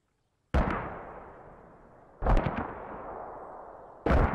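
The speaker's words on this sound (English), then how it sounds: "Ooh, that one's landing pretty close. Considering these are blind mortars" Mortar shells fired and landing in the military video game Squad: three heavy booming blasts roughly two seconds apart, each with a long rumbling decay, loud and nearby.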